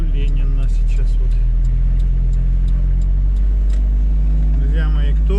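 A car drives along a street in Mirny, Yakutia, on a foggy, frosty day, with a steady low engine and road rumble throughout, close and continuous.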